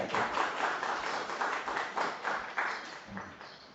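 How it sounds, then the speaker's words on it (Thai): Faint, continuous clapping from a crowd, a soft patter of many hands rising and falling for a few seconds. "เสียงปรบมือให้กับ อาจารย์ต่อและอาจารย์ใหญ่"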